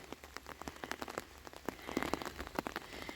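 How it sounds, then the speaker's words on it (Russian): Heavy summer rain pours onto a residential street in Visaginas, Lithuania, a quiet, steady patter of individual drops tapping and splashing nearby with no voices. "А дождь льет и льет, видите?"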